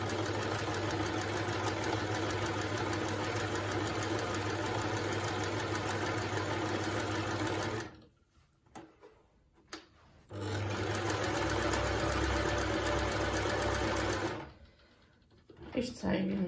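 An AEG NM 1800 sewing machine runs a triple straight stitch in two long, steady stretches of fast mechanical whirring, with a quiet pause between them where a person speaks briefly.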